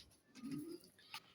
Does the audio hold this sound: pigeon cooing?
yes